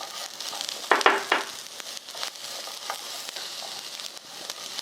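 Sliced garlic fries in a pan over medium-low heat with a soft, even sizzle, broken early on by a few louder stirring scrapes and clinks, then settling into gentle crackling.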